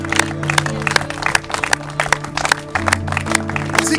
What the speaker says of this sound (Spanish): Puede darle un aplauso fuerte al Rey de Reyes